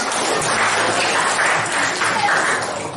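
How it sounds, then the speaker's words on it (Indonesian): Classroom applause for a student, a dense, steady wash of clapping from a group of pupils that holds at an even level throughout. "Saya tepuk tangan untuk dia."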